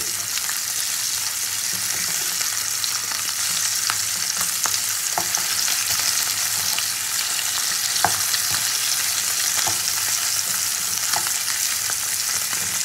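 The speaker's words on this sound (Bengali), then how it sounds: "মাছগুলোকে এবারে উল্টে পাল্টে খুব ভালো করে ভেজে নেব।" Fish frying in hot oil and being turned over, a steady, dense sizzle that runs throughout with a few faint utensil clicks on top.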